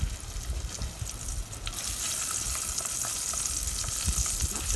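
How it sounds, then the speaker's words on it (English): Steady frying sizzle of trout in a hot pan over a campfire, a continuous crackling hiss that swells slightly partway through, with no voices. "It's sizzling pretty good."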